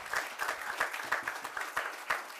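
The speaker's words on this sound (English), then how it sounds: "I really want to give a big round of applause to Brother David," Small audience at a meditation museum grand opening clapping in a soft, fairly distant patter, individual claps distinct, no voices.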